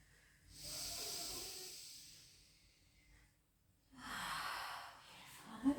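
During a rehab pilates session, a person takes two long, heavy, breathy exhalations close to the microphone, each a hissing rush of air separated by a quiet pause, with no talking.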